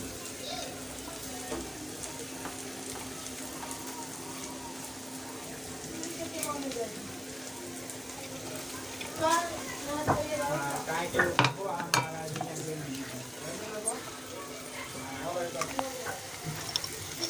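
Okra bhaji sizzles gently in a pan while it is stirred and crushed peanut powder is added, with scraping and clinking sounds that grow livelier in the second half. A voice is faintly present.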